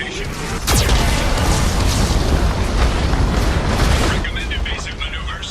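Heavy booming blasts from a Geth cannon in the Mass Effect video game, a loud sustained roar with a sharp impact near the start, while a voice speaks over it.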